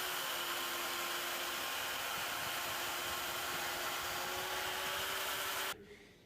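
A chain mortiser with a big 1.5-inch-wide chain plunge cutting into wood, a loud, sustained close-up whine that runs steadily and then cuts off abruptly near the end.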